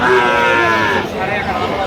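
Dairy cows and calves at a busy rural cattle market in Dinajpur, with a sustained low mooing call running through the din of a crowd and nearby voices, loud and close throughout.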